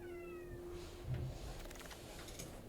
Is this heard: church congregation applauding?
no